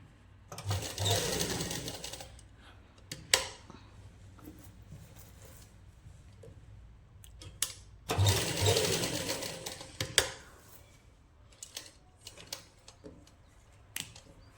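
Sewing machine stitching the side seam of a suit, in two long, loud runs of steady whirring separated by quieter handling clicks and pauses, with no talk.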